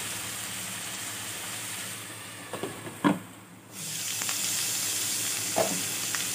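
Fenugreek leaves with lentils cooking in a pan give a steady close sizzling hiss, broken by a few brief stirring clatters and a short dip in the frying sound midway, with no voices.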